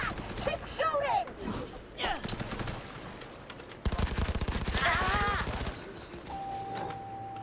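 Machine guns fire in rapid, rattling bursts, building to a sustained volley in the middle, mixed with voices and other background noise.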